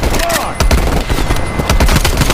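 Rapid gunfire in Call of Duty Cold War gameplay, a dense run of sharp shots crackling in quick bursts throughout, loud and close.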